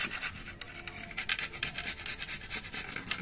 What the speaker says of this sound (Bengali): পেঁয়াজটা ঘষে নিচ্ছি